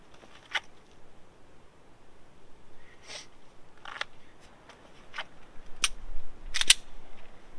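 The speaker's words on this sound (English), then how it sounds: "I'm going to do some practicing dry firing at the target" Dry-fire trigger clicks of a pistol during range practice at a target, a handful of sharp, isolated metallic snaps spaced irregularly over a quiet background with faint rustling between them.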